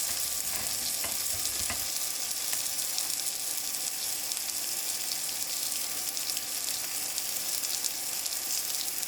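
Burgers sizzle steadily on a PowerXL smokeless indoor grill, a continuous bright hiss of frying fat with faint stirring clicks early on, close and even throughout with no talking.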